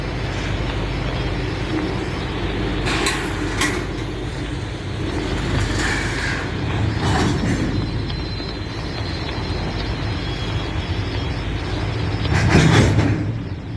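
Southbound CSX I168 freight train with auto racks and stacked containers rolling past on Boices Lane, a continuous loud rumble with intermittent squeals and clanks, growing louder near the end.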